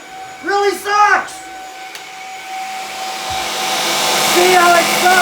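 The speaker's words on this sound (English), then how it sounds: "including a Shark stick vac that, as I can see right now, really sucks" A Shark Apex DuoClean corded stick vacuum runs with a steady, loud motor whine that builds after someone speaks briefly at the start.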